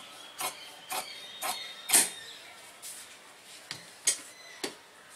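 A tailor cuts cloth for a kalidar hip-cut salwar with scissors, a series of crisp snipping strokes about every half second, close and clear over a quiet room.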